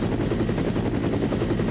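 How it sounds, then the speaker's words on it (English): Helicopter in the video game Resident Evil 2, a loud, close, steady rotor chop that pulses evenly without a break. "Look at that helicopter."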